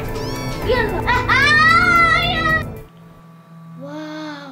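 A cat meows loudly in a rising, drawn-out cry, followed by a shorter meow after a brief pause, with a voice nearby.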